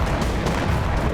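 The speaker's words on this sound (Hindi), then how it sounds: "बेलगोरोद में इस गैस स्टेशन पर भी यूक्रेन ने ड्रोन से अटैक किया। धमाके के बाद यहां आग लग गई।" Explosion from a drone strike on a gas station in Belgorod, heard as a dense, loud rumbling blast with crackling bursts filling the short stretch.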